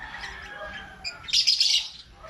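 Pet birds in a new light cage call out in short squawks and chirps, close and fairly loud, with a burst of shrill calling in the middle.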